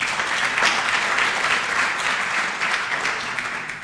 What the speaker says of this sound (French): je vous prie d'accueillir, d'applaudir très très fort nos débatteurs ici présents